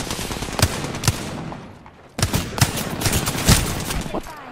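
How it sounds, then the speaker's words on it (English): Rapid Apex Legends gunfire rattles loud and close in sustained automatic bursts with sharp individual shots, pauses briefly about halfway, then resumes. "Just start shooting."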